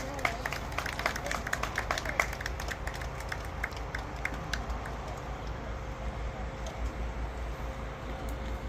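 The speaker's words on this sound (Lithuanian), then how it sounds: "Lydime aplodismentais." Applause at an outdoor ceremony in the Battle of Grunwald (Žalgiris) park, a crowd clapping steadily at moderate distance, thinning out toward the end.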